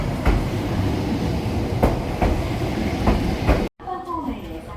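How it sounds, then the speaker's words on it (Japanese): An electric train arrives at a station platform from the Koyasan side on a mountain line, rhythmic wheel clicks over a steady rumble, then an abrupt cut to softer noise with squealing tones. "高野山側から電車が到着します。"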